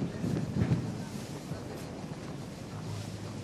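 Wind gusting across an outdoor petanque ground during a women's final, a steady broadband rush and rumble with a stronger gust early on, loud and continuous close to the microphone.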